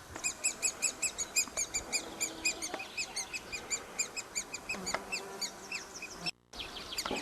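Small birds cheep from a nest on a hike in Durmitor National Park, Montenegro, with a steady run of high, rapid chirps that repeat in quick pulses, close and fairly loud, with no talk.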